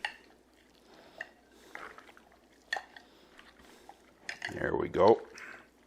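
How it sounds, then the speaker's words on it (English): Teriyaki jerky meat strips get stirred through a wet slurry in a bowl, giving sparse soft squelches and clinks that build into a louder wet mixing burst near the end, under a brief spoken remark. "You're going to mix it around so that it all gets wet with the slurry."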